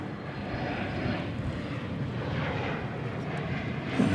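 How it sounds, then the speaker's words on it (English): An American Airlines Airbus A321neo arriving at DFW Airport at night from Los Angeles gives a steady, moderately distant engine roar that swells slightly toward the end, with no voices. "It is an American Airlines flight 2833, Airbus A321"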